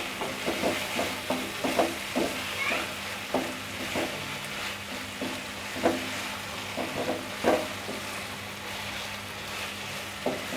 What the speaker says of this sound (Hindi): मिक्स करने के बाद एक बार फिर इसको ना दम पे 4 से 5 मिनट के लिए पका लेंगे